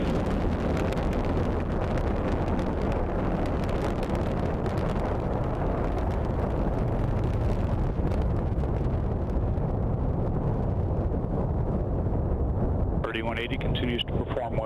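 An Atlas V rocket's RD-180 engine roars deep and continuous during ascent, rumbling loudly and steadily throughout, with a brief higher-pitched warbling tone near the end.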